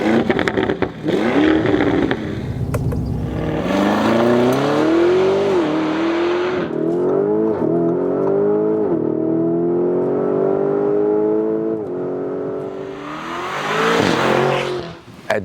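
A Lamborghini Urus Pearl Capsule Edition performance SUV accelerating hard on the German Autobahn, a loud engine roar climbing in pitch through several upshifts with clear gear-change dips, close and alone.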